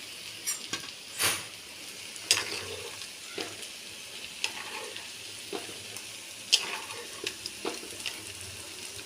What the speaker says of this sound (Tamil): குழம்பு நல்லா கொதிச்சுன்னு இருக்கு.